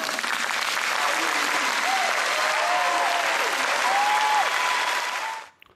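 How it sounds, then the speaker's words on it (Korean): A large audience applauds a speech, heard through a played recording at a high school in South Carolina; dense, steady clapping fills the room for over five seconds before cutting off abruptly, with faint voices and whoops mixed in. "저 연설을 듣고 사람들이 왜 박수를 치나 그런 생각을 하실 거예요"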